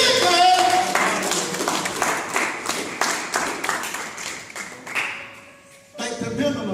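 A church congregation claps in worship, a loud, irregular mix of hand claps with rhythmic bursts and some voices and tones mixed in, dipping briefly before swelling again near the end.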